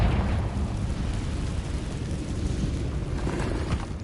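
Confringo spell blast in the video game Hogwarts Legacy, a loud, sustained rumbling explosion that fills the whole moment with dense low roar and crackling debris, steady rather than a single sharp crack.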